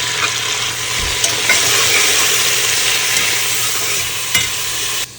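Ingredients for Andhra-style country chicken biryani fry in a pan with a steady, close sizzle and occasional stirring scrapes, running unbroken for the whole stretch with no talk.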